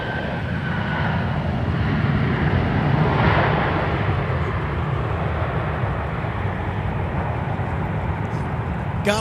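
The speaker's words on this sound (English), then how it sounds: "Gotta love those bucket reversers on the Delta 717 now arriving." A Delta 717 airliner arriving at Minneapolis–St. Paul Airport roars steadily on rollout with its bucket thrust reversers deployed, a loud broad rumble that holds throughout.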